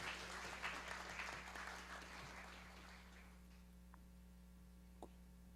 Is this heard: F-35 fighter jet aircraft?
no